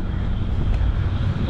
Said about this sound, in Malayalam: നല്ല കാറ്റുണ്ട്, അതുകൊണ്ട് തന്നെ എക്കോ പിടിക്കുന്നുണ്ടാന്ന് അറിയില്ല കേട്ടോ സംസാരിക്കുന്നതിൽ